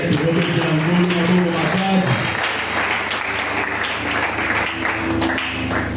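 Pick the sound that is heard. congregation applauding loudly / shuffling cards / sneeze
congregation applauding loudly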